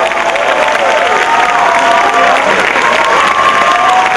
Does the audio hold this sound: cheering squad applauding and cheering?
yes